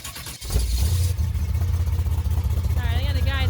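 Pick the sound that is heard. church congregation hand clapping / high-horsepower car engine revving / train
high-horsepower car engine revving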